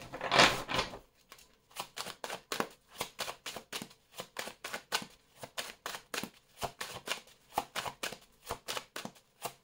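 Oracle cards are shuffled by hand in a steady run of crisp, papery riffles and slaps, close and fairly quiet, with no talking.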